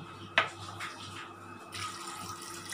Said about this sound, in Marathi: पाणी थोडं घालून आपण ह्याला दोन शिट्या काढून शिजवून घेऊया.